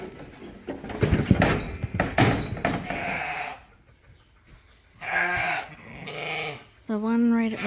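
Sheep bleat from inside a pen during a busy shearing day on a farm, a few clear calls in the second half, with talk and some bumping and rustling earlier on.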